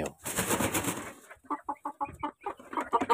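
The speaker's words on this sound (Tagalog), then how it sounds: "Yan ang aking tandang. Talagang native na native yan." A rooster crows loudly and close, followed by a series of short clucking sounds.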